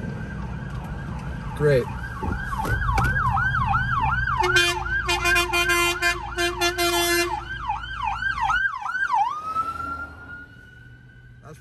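An ambulance siren wails close by, its pitch sweeping up and down over and over, with a brief spoken word before it tapers off.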